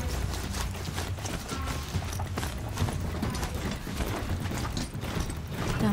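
A mechanical mount in the video game Horizon Zero Dawn trots along with steady rhythmic hoof clops mixed with whirring, clicking gear and ratchet noises, a dense continuous loop with no pauses.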